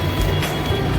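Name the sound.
Howrah metro train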